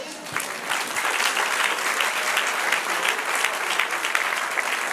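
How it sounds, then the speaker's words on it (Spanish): Congregation applause during a church sermon, a sustained burst of many hands clapping, close and lively, steady for several seconds with a few low thumps near the start. "Dale un aplauso, Señor."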